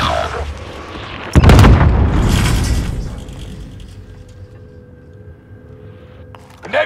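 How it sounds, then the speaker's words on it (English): A Nebula 5 bomb in a Call of Duty match, heard as one loud blast that rolls off into a rumble and fades to a quiet mechanical hum, with a sharp clunk at the very end; no talking. "A Nebula 5 bomb has been deployed."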